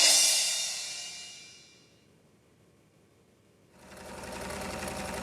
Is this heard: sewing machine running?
yes